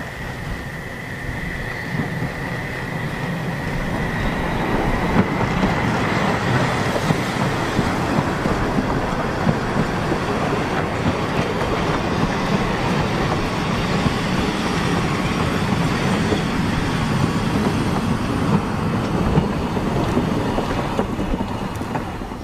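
A mixed freight-passenger train from Pritzwalk in the Prignitz rolls past, its rumble and clickety-clack of wheels building after a few seconds and holding steady and loud, with a faint high whistle or squeal early on.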